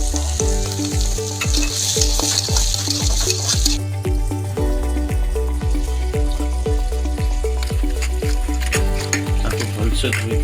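Chopped onion and green peas frying for poha upma, a continuous loud sizzle with a spatula repeatedly knocking and scraping in a steady rhythm, close by and without speech.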